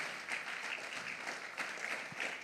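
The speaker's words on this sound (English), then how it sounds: "with a round of applause, let's welcome Mr. Godwin Kojo Odun." An audience at a national investment quiz contest claps steadily as a guest speaker walks onto the stage, a continuous moderately distant applause with no voices over it.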